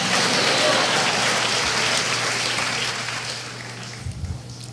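A church congregation applauding, a dense wash of clapping that swells then gradually fades over several seconds, with a low steady hum beneath and a few louder thumps near the end.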